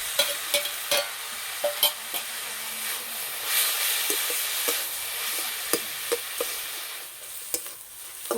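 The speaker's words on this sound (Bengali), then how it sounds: "এইভাবে কিছুক্ষণ নাড়াচাড়া করলে কফিটা সিদ্ধ হয়ে যাবে" Cabbage filling for stuffed paratha, mixed with boiled potato and fried egg, stirred in a hot pan: a steady soft sizzle and hiss with repeated sharp scraping clicks of the spatula, close and alone.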